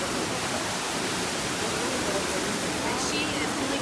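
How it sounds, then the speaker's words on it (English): Waterfall in Karura Forest, a dense, constant rushing roar of falling water, close and loud throughout with no breaks. "Waterfall area."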